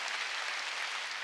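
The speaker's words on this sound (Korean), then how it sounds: "감사의 박수 시작이야." Brief burst of congregational applause giving thanks during a church New Year's Eve worship service, a steady dense clapping texture with no voices, fairly quiet throughout.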